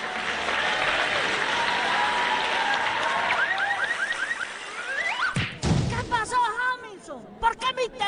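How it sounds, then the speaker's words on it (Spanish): Audience applause welcoming a performer onto an educational history show, a sustained crowd clapping wash with whistle-like tones over it, cut off by a sudden loud burst before talking voices take over. "reciban con un fuerte aplauso a Silveria"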